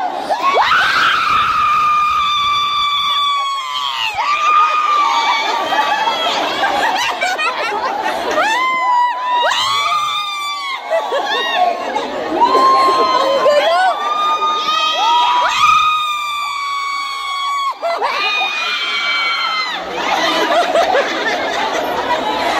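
A loud crowd of children screaming and cheering, with shrill overlapping shouts rising and falling continuously throughout.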